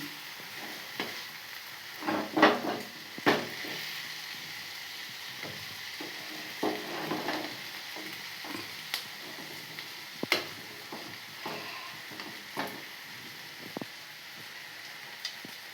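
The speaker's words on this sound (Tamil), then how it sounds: "தேங்காய் போட்டு நான் ஒரு 2 பெரட்டி அவ்வளோதாங்க" Amaranth greens and lentils fry with grated coconut as a spoon stirs them, soft sizzling under scattered scraping clicks, fairly quiet and close.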